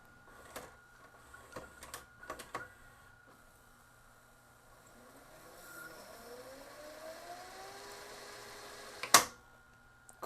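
A Magnavox DV220MW9 VCR/DVD combo rewinds a tape: faint mechanical clicks give way to a soft whirring drive whose pitch slowly rises, then a sharp clunk near the end.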